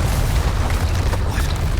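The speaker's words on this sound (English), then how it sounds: "On this part you gotta be careful because this tower" A tower collapses in Resident Evil 4 Remake with a short, heavy, booming crash that rumbles close up and loud, with no voices.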